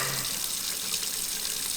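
Tap water runs steadily into a sink during hand washing with a degreasing hand cleaner, a continuous close hiss of splashing water with no voices.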